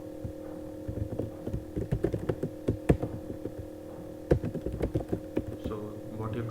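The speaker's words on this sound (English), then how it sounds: "Now in the next line I'm typing address" Fast, irregular typing on a computer keyboard while a Python program is written, with clustered key clicks over a steady low hum and a voice talking intermittently underneath.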